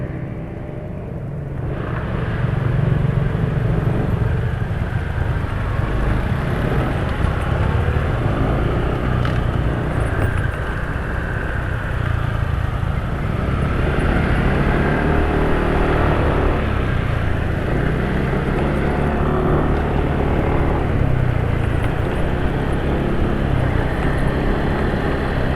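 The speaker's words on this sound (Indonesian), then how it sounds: "Vario yang sebelah tuh, suara berisiknya coba perhatikan." Noisy Honda Vario scooter engine running with a steady loud rumbling drone and traffic-like background, continuous throughout with slight swells, no talking.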